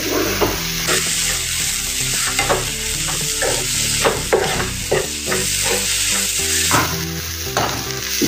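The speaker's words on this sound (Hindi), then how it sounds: "ये देखिए अभी तेल छोड़ने लगा है अपना मसाला।" Spice masala paste sizzles loudly in hot oil while a spoon scrapes and stirs the pan in a steady, repeated rhythm, close and continuous.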